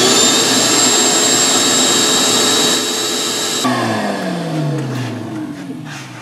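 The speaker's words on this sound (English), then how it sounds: "When I turn this switch here, the shop vac should come on." A shop vac switched on for dust collection on a homemade spindle sander table gives a loud, steady motor roar that suddenly drops and winds down with a falling whine.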